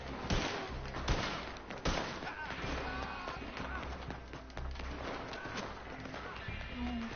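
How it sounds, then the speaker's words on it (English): Gunfire in the video game Red Dead Redemption 2 during an online capture mode, several sharp shots early on, then continuous busy game noise with a voice talking over it. "Quit shooting at me!"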